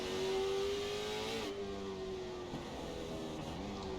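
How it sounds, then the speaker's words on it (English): A race car engine on the Charlotte road course holds a steady high pitch, then drops as the driver works down through the gears, loud and close with no talk. "You can hear him getting down through the gears."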